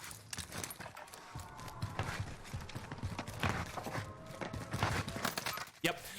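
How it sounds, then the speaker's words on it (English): Enemy footsteps in Call of Duty Warzone on Rebirth Island, a quick run of soft, uneven treads under busy game noise, fairly faint, with a sharper thump near the end. "So there, notice that I hear the footsteps."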